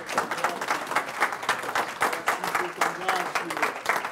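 A church congregation cheers and claps in acclaim of the Lord, a dense, steady wash of applause and voices filling the room without pause.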